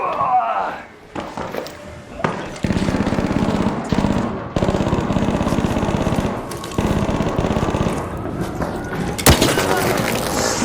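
The Anvil Splitter, a shotgun-like weapon in the video game Arc Raiders, fires in loud, heavy booming blasts over sustained rumbling gameplay noise, with a sharp report near the end.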